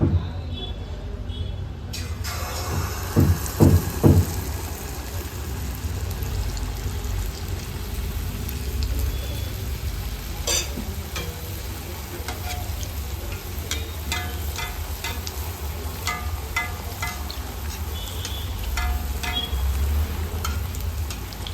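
Rava sweet sizzling as it fries in hot oil, a steady low crackle running throughout with a few stirring or spoon scrapes and clinks early on and scattered sharper pops later.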